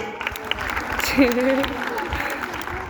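Clapping from a small group at a school science programme, steady and moderately loud, with a voice speaking over it and a brief sung or called note in the middle.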